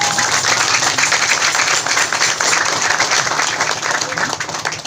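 Audience applause greets the first-place troupe at a randai folk-theatre competition in Solok, West Sumatra: dense, steady, loud clapping that fills the whole stretch with an engine-like hum underneath.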